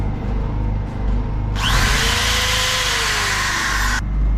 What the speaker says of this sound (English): I need to drill a hole through this so I can thread the wires through